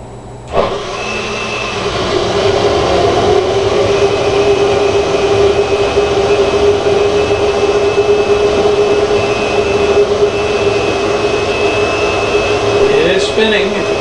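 Steady whirring hiss of a spinning propeller that holds an even, unbroken tone for the whole stretch, loud and close, with a faint click near the start.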